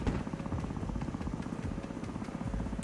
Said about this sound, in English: Tilt rotor aircraft here.